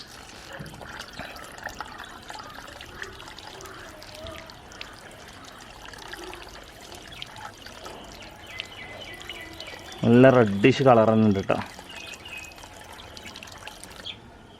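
Water poured and trickling while moina live feed for guppies is washed, a soft running-water wash under a man's speech, then a louder burst of splashing near the end.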